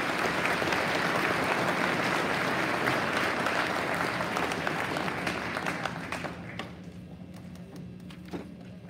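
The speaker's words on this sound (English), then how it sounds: "Let's give our 5th graders a round of applause." A school audience at a Veterans Day program gives a round of applause to fifth-grade students, with dense steady clapping and a few knocks and thuds that thin out and fade over the last few seconds.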